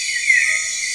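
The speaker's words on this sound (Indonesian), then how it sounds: "Ini suara jangkrik-jangkrik dan binatang-binatang kecil lainnya" Crickets and other small nocturnal creatures chirp in a continuous, dense, high-pitched drone in a forest at night around a solo campsite, steady and fairly loud with nothing else heard.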